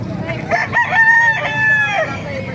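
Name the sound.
roosters crowing at a chicken market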